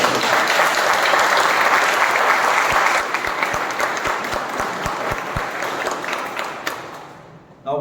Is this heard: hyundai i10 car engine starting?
no